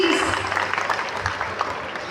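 An audience applauds a student performer on stage; dense, steady clapping fills the short stretch at moderate loudness, with a few louder individual claps standing out.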